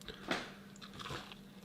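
Someone bites into a crunchy fried Russian piroshki, giving one sharp crisp crunch followed by a softer second crackle close to the microphone, with no talk.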